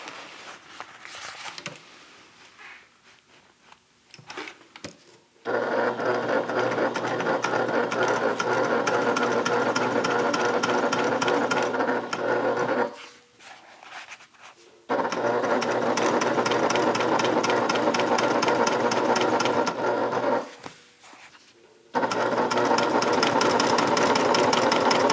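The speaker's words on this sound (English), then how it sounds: "once again I am going to top stitch on the side piece" A sewing machine top stitches the side piece of a Simply Classic Talise bag in hair-on-hide, loud and close, in three long steady runs broken by short pauses and soft handling noise.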